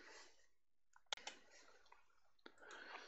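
A few sharp computer mouse clicks, made while importing a skeletal mesh in Unreal Engine 4, sound close and crisp over a faint steady hiss with no talking.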